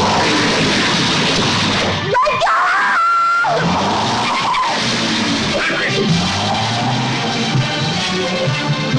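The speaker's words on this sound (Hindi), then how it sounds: "एक गाड़ी पीछा कर रही है।" In a car chase in the 1975 film Ek Mahal Ho Sapno Ka, tyres screech in a sharp squeal, then there is a brief lull and continuing loud engine roar, rumbling action noise and cries.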